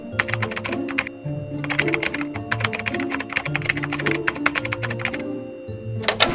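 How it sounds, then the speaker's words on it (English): Keys clatter in quick irregular bursts as a prompt is typed on a keyboard inside a video game, with steady low in-game tones humming underneath and no one talking. "type in the prompt"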